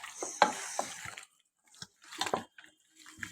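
Hands squish and knead spiced chicken pieces in a marinade, giving soft, wet, irregular squelches in short bursts with brief quiet gaps between them, faint and close.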